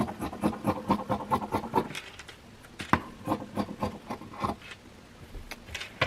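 Fabric pieces for a Tajik national dress being cut by hand, heard as a quick run of close, rhythmic scissor snips and rasping cloth rubs, a pause, then more scattered snips.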